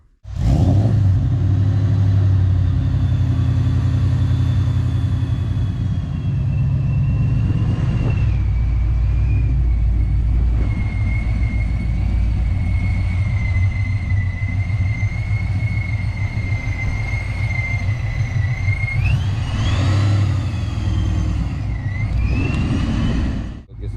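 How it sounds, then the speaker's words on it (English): Supercharged Ford SVT Lightning truck on the move, a loud, steady engine rumble held for a long stretch with a rising whine that climbs on the wide open throttle pulls, no talking. "here are some video clips of the car, of how it sounds, drives, and also some wide open throttle pulls for you"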